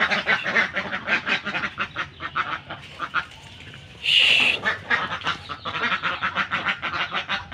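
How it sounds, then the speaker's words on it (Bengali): A flock of ducks quacks repeatedly in quick, loud, close bursts beside a backyard swimming pool being filled with water, with a brief high whistle-like tone partway through. "হাঁসগুলো এখন সুইমিং পুলে নামবে দেখেন।"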